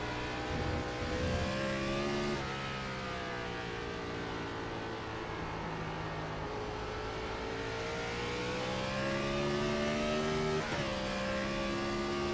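A Gen 4 stock car in the iRacing sim at Watkins Glen drones loudly and continuously, its engine pitch rising as it accelerates, dropping sharply on lifts, then climbing again through the gears.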